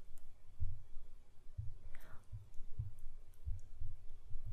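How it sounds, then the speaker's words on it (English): Computer mouse clicks while right-clicking and selecting menu items in a development environment, a few quiet, sharp taps spaced irregularly over a low background rumble. "I am right-clicking on the Components directory and selecting New MXML Component"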